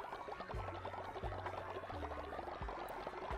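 Seeds watered in the video game Cult of the Lamb: a faint, repeated pouring water effect recurs about four times in quick succession over soft game background sound.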